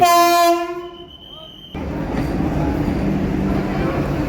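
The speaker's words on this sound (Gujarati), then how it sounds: "તો રાજકોટ જંકશન પર આવી ગઈ છે આપણી વંદે ભારત." A Vande Bharat Express at Rajkot Junction sounds a loud, sustained horn blast that cuts off, followed by the steady rumble and rolling clatter of the train moving along the platform nearby.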